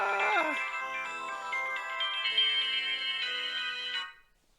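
A bright electronic Nokia phone ringtone melody plays for about four seconds, a quick run of tones over a sustained tonal backdrop, then fades out.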